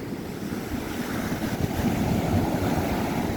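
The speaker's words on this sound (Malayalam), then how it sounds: "തിരമാല എണ്ണിയാലും തീരൂല തിരമാല മറിഞ്ഞാലും തീരൂല" Sea waves wash onto the shore in a continuous surf roar mixed with wind noise, swelling slightly louder toward the end, with no voices.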